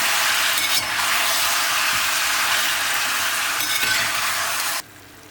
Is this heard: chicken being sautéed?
yes